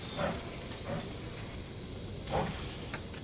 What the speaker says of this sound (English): So this train is running.